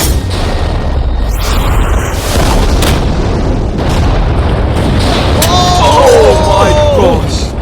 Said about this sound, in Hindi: ये एक बहुत ही बड़ा धमाका होने वाला है।